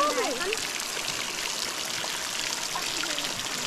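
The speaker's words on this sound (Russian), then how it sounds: "Переходим снова реку, но уже в более сильном течении" A mountain river on a hike to the Plesetsk waterfalls rushes in a continuous broadband roar of flowing water, steady and close, with faint voices barely present.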